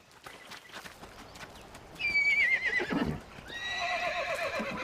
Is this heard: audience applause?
no